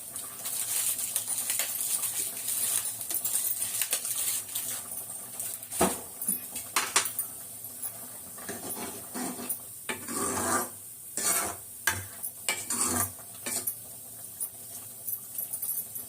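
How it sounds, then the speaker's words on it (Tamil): A pot of thick Tamil kuzhambu gravy bubbles and sputters steadily, with irregular popping and spattering bursts over a constant simmering hiss. "இப்போ குழம்பு நல்லா கொதிக்குது"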